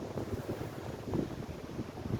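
Wind and surf at the water's edge of a beach between Boulders and Seaforth, South Africa, blend into a steady broadband rush with wind buffeting the microphone, continuous and without talk.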